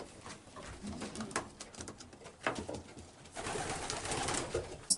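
Racing pigeons coo softly in a breeding loft holding sixteen pairs of breeders, some nesting on the ground, with overlapping calls, rustling and wing flutters close by and a louder flap at the end.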